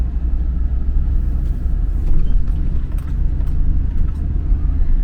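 2023 Ford F650 truck driving down the road, heard from inside as a loud, continuous low rumble of engine and road noise with faint intermittent rattles and bumps.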